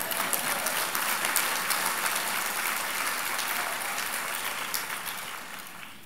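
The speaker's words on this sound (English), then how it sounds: "You can clap." A congregation at an Aglow prayer-movement gathering claps steadily, a dense, close burst of applause that holds evenly and slowly tapers toward the end.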